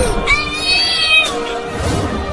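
A cat gives a single drawn-out meow, close and fairly loud, rising and falling over about a second amid background noise.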